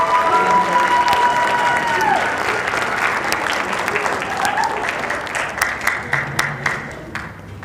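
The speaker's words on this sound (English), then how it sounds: "could we give the audience and your caregivers a wonderful round of applause?" A school band concert audience applauds for the wind ensemble and symphonic band, a full, loud wash of clapping with some cheering that tapers into scattered individual claps near the end.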